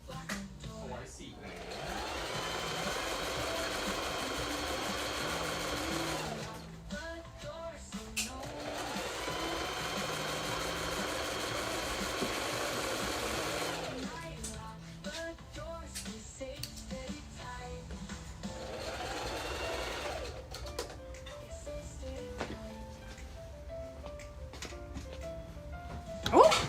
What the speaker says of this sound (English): Oh, sewed one of my seams backwards.